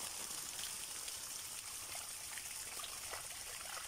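Water drains out of an emptied hose in a steady, close hiss of trickling flow that runs unbroken for the whole stretch, with no voices.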